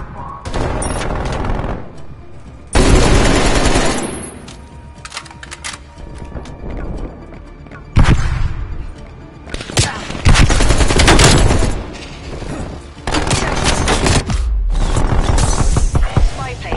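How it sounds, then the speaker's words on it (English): An enemy sentry turret in Call of Duty blasts out loud, rapid bursts of automatic gunfire, several long volleys broken by short pauses, with mechanical clatter in between. "Hostile sentry turret active."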